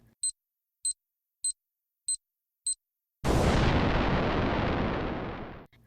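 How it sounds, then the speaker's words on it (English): A ticking time bomb hung on a hotel room door handle, sound effects: five evenly spaced sharp ticks, then a loud, roaring explosion that fills the space and slowly fades over about two seconds. "Someone has left a ticking time bomb hanging on the door handle."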